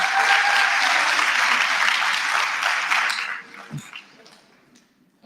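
An audience at a national student representative council induction applauds Ndate Pikisha with a broad, steady burst of clapping that fades out after about three seconds, leaving a few scattered sounds and a brief noise at the end.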